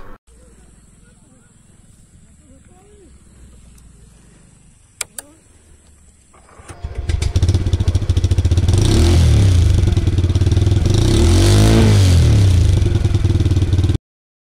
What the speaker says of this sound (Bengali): আমি এই বাইকটা চালাচ্ছি